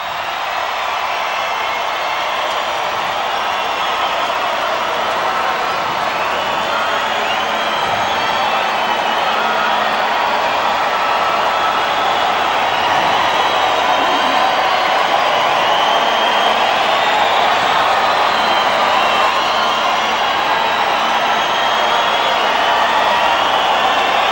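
Boxing arena crowd waiting for Roy Jones Jr.'s entrance before his fight with Tony Thornton, a continuous roar of many voices that rises slightly in the latter half and stays loud throughout.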